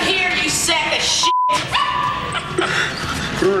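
A small dog barking and whimpering in a film scene, yips and whines mixed with film dialogue and background sound, fairly loud and near.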